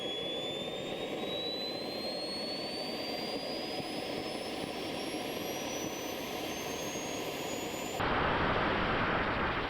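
An RC model jet engine on its first run-up to idle runs close and loud, a high whine climbing slowly over steady roar, then the tone cuts and the roar surges louder.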